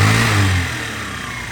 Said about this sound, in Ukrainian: По двигунчику просто все гарно звучить, без лишніх звуків, без проблем.